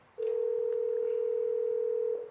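A telephone line tone rings out in a radio studio, one long continuous steady electronic tone held for about two seconds, clear and moderately loud over faint background noise.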